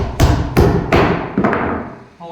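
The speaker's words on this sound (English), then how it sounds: "I'm going to hammer it from the other side" Hammer blows driving into wood wall framing, four heavy close thuds at an uneven pace, each ringing briefly before fading, with no talking.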